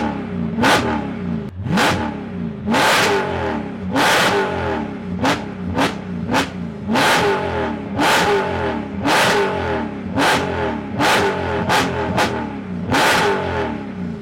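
A 500-horsepower car revs hard in a dozen sharp, loud bursts, each engine roar rising and falling quickly in an uneven rhythm, close up with no talking.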